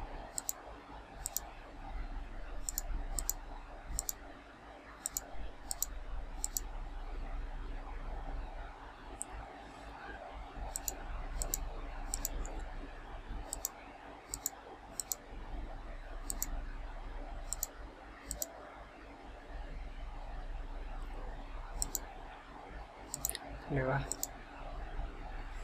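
Computer mouse clicks sound in short, sharp, evenly spaced bursts over a steady background hum while someone talks, installing drivers to remove the pattern lock on a Vivo Y15 phone.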